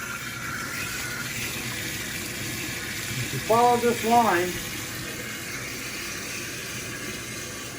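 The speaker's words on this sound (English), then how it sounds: "It's already sucking water out of the aquarium." Tap water runs steadily through an aquarium siphon cleaner line, a continuous hiss and rush with a brief gurgling burst partway through, while a person talks over it.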